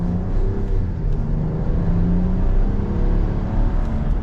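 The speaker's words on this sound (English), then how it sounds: "setting off now in the new Ram." A 2025 RAM 1500 Laramie Crew Cab truck with a twin-turbo inline-six Hurricane engine pulls away, its steady low rumble and whir heard from inside the cabin, loud and continuous with no talking.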